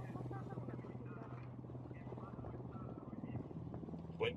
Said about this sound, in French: Il y a un hélicoptère.